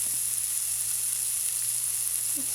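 Salisbury steak beef patties frying in a pan, a steady, close sizzle with a bright hiss that continues evenly throughout.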